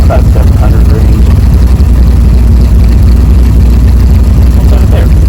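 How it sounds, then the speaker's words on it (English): An engine with a Holley Sniper EFI system idles close up, a loud steady low rumble with even pulsing that holds constant throughout. "You hear the idle go up."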